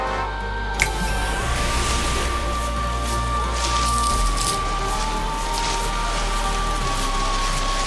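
A rain and storm sound effect in a Hindi TV drama scene: a steady, dense hiss of rain runs unbroken from start to end, with one sharp crack early on and no talking.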